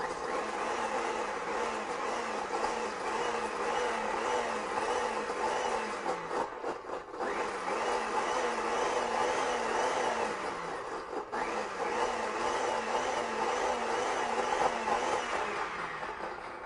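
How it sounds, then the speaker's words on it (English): A blender whirs steadily as it mixes an herbal tincture, a loud continuous motor drone with two brief dips where the blade pitch shifts, running alone with no talking. "We'll blend that and see how it looks. Let's blend it up."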